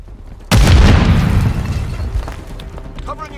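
Grenade explosion in Modern Warfare 3 online team deathmatch, one sudden loud boom with a deep rumbling tail fading over a couple of seconds.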